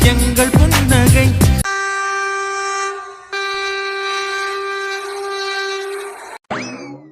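A train in motion sounds a long, steady, loud horn-like tone that carries over a low running rumble. A brief earlier burst and a short rising tone come near the end.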